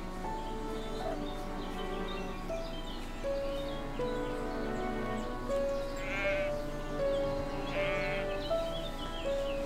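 Sheep in the video game Everdream Valley bleat repeatedly, several drawn-out calls rising over a steady ambient music bed.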